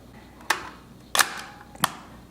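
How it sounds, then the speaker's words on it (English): A Nikon FE film SLR fires with its self-timer, giving three sharp, close mechanical clicks spaced about half a second apart in a quiet room. "then the self-timer will trip, and then the shutter will actuate, and your exposure will be taken"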